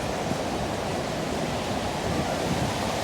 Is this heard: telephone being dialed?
no